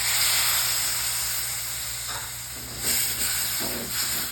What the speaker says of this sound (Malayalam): അതിലേക്ക് 1/4 കപ്പ് വിനാഗിരി ഒഴിക്കാം.